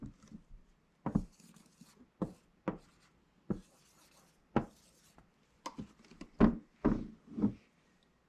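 Pencil strokes on paper during a phonics writing exercise, a series of separate scratchy taps and short scribbles, close and fairly clear in a quiet room, with a quicker cluster of strokes near the end.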